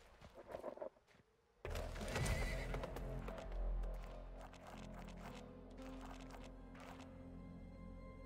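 Horses in the western game Weird West give a loud whinny, then their hooves clop steadily nearby against a rumbling background. No voices are heard.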